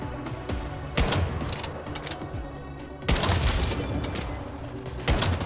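Sniper rifle fire in the video game Once Human, with several sharp, loud shots cracking out at irregular intervals over a dense rumble of ongoing gunfight noise, and no voices.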